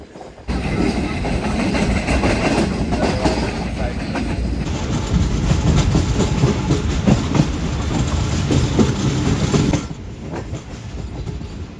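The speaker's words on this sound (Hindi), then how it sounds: "तो ये ट्रेन हमारी काफ़ी खूबसूरत टर्न लेने के बाद अप्रोच बना रही है रोडी जंक्शन रेलवे स्टेशन पर" Awam Express passenger train rolling toward Rohri Junction, a continuous loud rumble of wheels and carriages with rhythmic clatter, heard from inside the coach, easing off near the end.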